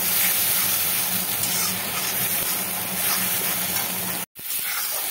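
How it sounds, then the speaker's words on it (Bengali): Onion paste fries in butter and oil over low to medium flame, a steady close hissing sizzle that continues without pause apart from one very brief dropout near the end. "লো টু মিডিয়াম ফ্লেমে রেখে পেঁয়াজটাকে আমি একটু বাটার আর তেলের সঙ্গে ভালোভাবে ভেজে নেব"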